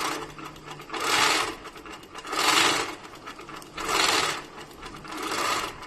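A longarm quilting machine in Pro-Stitcher regulated mode stitches in four rhythmic swelling bursts separated by brief lulls, close and steady. No voices are present.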